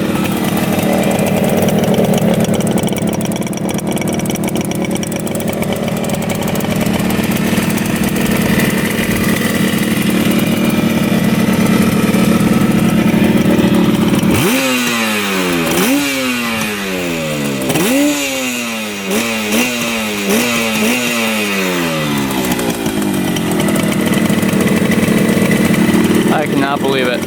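A rare two-stroke twin-cylinder motorcycle, started for the first time after 20 years stored in a barn, idles steadily and loudly, then gets several rising throttle blips midway before settling back to idle; someone talks over it.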